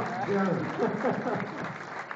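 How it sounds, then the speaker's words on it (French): Applause from a crowd, steady clapping heard underneath someone speaking loudly over it. "On l'applaudit, Karim Gadji, un grand champion"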